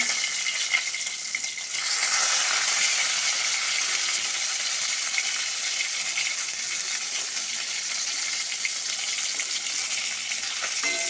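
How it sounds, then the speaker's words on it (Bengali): Fish frying in oil gives a bright, hissing sizzle that swells after a couple of seconds and stays steady, with faint stirring, no speech. "এখন হচ্ছে গিয়ে মাছ ভাজা"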